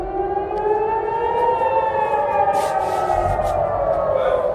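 Loud civil defense air raid siren in Israel wailing steadily with a slowly falling pitch, its tones sweeping downward over several seconds with faint background noise.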